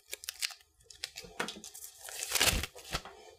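A nail form being cut: close, crisp crinkling and snipping of a thin paper-like form, with several short bursts and a denser tearing rustle toward the end.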